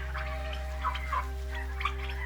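Turkeys on an Irish turkey farm give a few short, scattered calls inside a shed, set against a constant low mechanical hum from the building; no one speaks.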